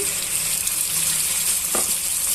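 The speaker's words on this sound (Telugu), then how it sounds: "ఉల్లిపాయ ముక్కలు బాగా వేగిపోయాయండి ఇప్పుడు మనం గ్రైండ్ చేసి పెట్టుకున్న మసాలాని యాడ్ చేసుకోవాలి" Onion pieces frying in a pan with ground masala added produce a steady, close hiss and sizzle throughout, with a brief stirring scrape near the end.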